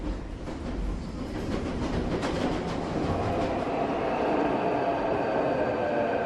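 A Daegu metro train in South Korea rolls steadily along, a continuous rumble of wheels on track with faint rhythmic clatter, close and fairly loud throughout.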